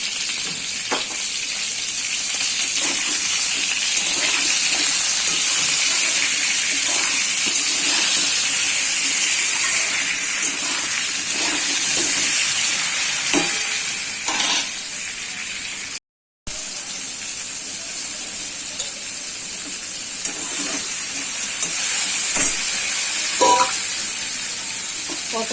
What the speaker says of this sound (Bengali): পটলগুলো ভাজার জন্য আমি একটু লবণ দিয়ে দেবো,